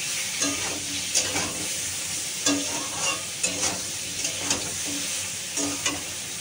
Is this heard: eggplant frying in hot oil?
yes